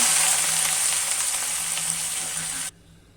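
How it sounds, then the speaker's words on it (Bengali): Chopped banana flower hits hot oil with large cardamom, giving a loud, steady sizzle and hiss close by that cuts off sharply near the end, with no voices. "এখন আমি কলার মোচাগুলো ছেড়ে দিব"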